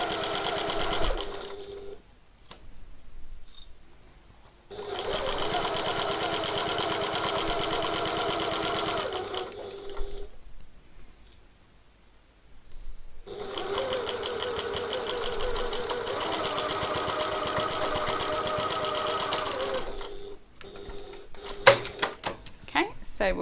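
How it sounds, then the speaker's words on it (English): Close and loud, a sewing machine drives through several layers of a tote bag in long, continuous whirring runs, broken by short pauses and ending with a few clunks from the machine being handled. "so stitch through all of those layers."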